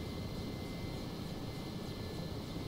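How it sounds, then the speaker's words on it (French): A Mi-8 helicopter flying in a video game, with a steady, dense rotor and engine drone that holds at a constant level throughout and no voices over it. "J'ai un hélico là."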